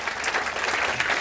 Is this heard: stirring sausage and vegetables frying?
no